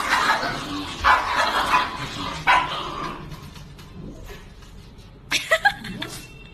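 Dogs barking at each other through a glass wall, loud repeated barks in bursts, with a chuckling voice and a final flurry of sharp barks near the end.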